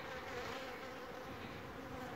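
Honey bees swarm around an open feeding station of sugar syrup outdoors, a dense continuous buzzing drone, steady and fairly faint with no voices.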